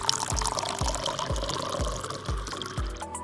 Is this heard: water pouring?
yes